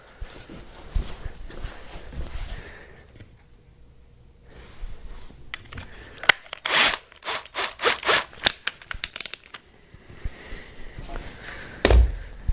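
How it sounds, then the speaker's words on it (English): Holes being drilled through a helmet with a power drill or Dremel, heard as several short, loud bursts of whirring and grinding clustered in the second half, with quieter rubbing and handling noises before them. "I'm going to end up drilling new holes."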